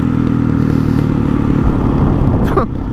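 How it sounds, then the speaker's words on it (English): A Honda CRF 450 motorcycle engine roars loud and close as the rear wheel spins without traction on an attempted wheelie, a sustained rough drone that drops off sharply near the end. "Went to do a wheelie, the rear wheel spun."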